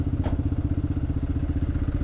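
A manual-clutch motorcycle eases away at low revs in a traffic jam, its engine giving a steady, close, throbbing putter with a brief clatter near the start.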